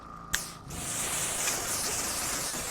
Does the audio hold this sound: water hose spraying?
yes